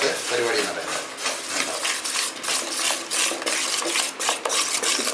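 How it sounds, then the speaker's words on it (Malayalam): Gram flour batter for dhokla being stirred in a bowl, a steady scraping, sloshing churn with light utensil clinks repeating close by, voices talking intermittently over it. "നമുക്കിനി നന്നായിട്ട് ഇളക്കാം."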